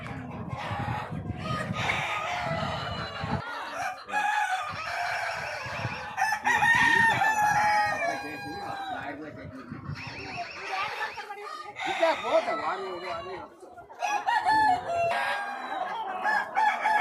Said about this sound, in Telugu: కోళ్ళు ఎలా ఉన్నాయి, ఎన్ని కోళ్ళు ఉన్నాయి, అన్ని మొత్తం నాటి కోళ్ళు